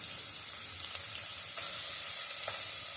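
Sliced onions hitting hot oil in a pan for a okra pulusu, a dense, even sizzle close by with a few faint scrapes, no voices.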